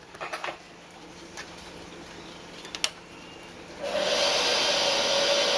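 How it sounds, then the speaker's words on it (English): A diamond grinding disc mounted in a drill or mill chuck spins up after a few faint ticks, settling into a steady, loud, hissing whine that continues to the end. "This is a diamond disc, and I'm going to put that in the chuck and try grinding it and see how we go."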